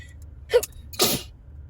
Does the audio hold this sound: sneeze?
yes